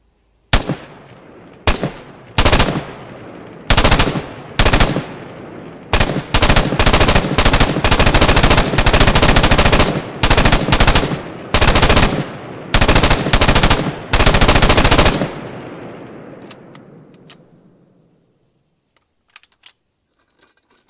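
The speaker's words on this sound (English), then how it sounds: "it's presented in the update as a light machine gun." Long rattling bursts of automatic fire from an H&K MG8A1 light machine gun in a video game, loud and close, broken by short pauses, then a fading echoing tail into quiet.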